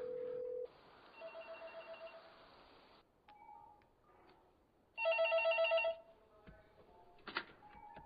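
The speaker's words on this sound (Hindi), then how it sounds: "मैं पुलिस को फोन कर रहा हूँ।" A telephone call to the police station in a dubbed horror-comedy film: a dial tone, a quick run of touch-tone dialing beeps, then a loud ringback tone that repeats in bursts, with a few clicks and no talking.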